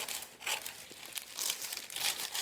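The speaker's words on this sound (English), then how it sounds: "you go along with your scissors and lift it and you cut down" Scissors slicing through baking paper while lining a Christmas cake tin, a few crisp crinkling, rustling cuts close by in a quiet room.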